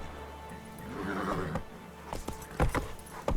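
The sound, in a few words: horse Roach moving in The Witcher 3 video game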